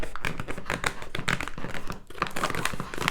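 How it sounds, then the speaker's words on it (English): Close plastic crinkling and pressing as a Mountain House Breakfast Skillet freeze-dried food pouch, with water already stirred in, has its zipper sealed: rapid, irregular crackles and rustles with brief pauses. "And you just seal the zipper pouch."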